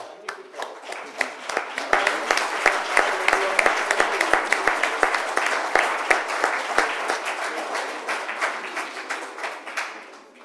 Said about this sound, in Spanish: Bravo, Marcelino. Un aplauso.